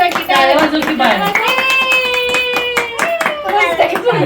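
A young child claps steadily and repeatedly at close range, the sharp claps running throughout while a voice speaks in a sing-song tone on top.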